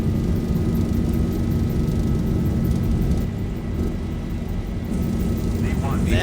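Boeing 737 (ZIBO mod) in a flight simulator on its takeoff roll and liftoff: a loud, steady engine roar with deep low rumble continues throughout, with a brief dip in the middle, while someone talks over it.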